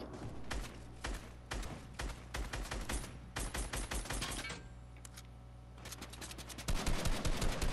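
Rapid bursts of automatic gunfire from a duos shooter match, volleys of cracking shots in quick succession with brief lulls between, some close and loud, others more distant.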